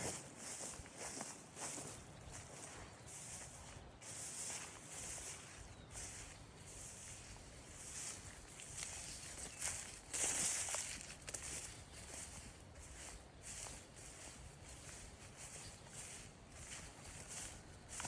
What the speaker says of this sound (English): See if I can walk out here without getting too wet